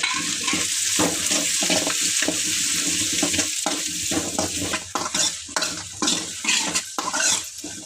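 Onions fry in a pan for egg biryani, a loud close sizzle broken by the rhythmic scrape and clink of a spoon stirring against the metal.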